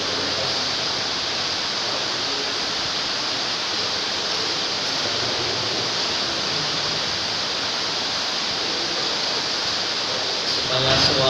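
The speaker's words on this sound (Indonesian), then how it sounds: "Supaya suara hujannya tidak masuk." Rain pours steadily outside an open door, a dense, even hiss that stays constant and fairly loud throughout, heard from indoors with no other sounds.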